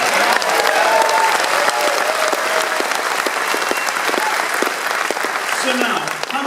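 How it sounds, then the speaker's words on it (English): Sustained audience applause fills a room after a documentary-film interview segment, loud and dense throughout with scattered claps and a faint voice near the end. "Another round of applause for that."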